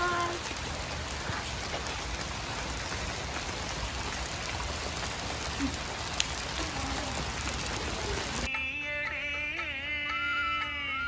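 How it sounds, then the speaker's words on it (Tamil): Heavy rain pours outdoors in a backyard cooking setting, a dense, loud, steady hiss of drops for about eight seconds before it gives way to musical tones, with no talk. "இங்கே பாருங்கள் மழை கொட்டுது"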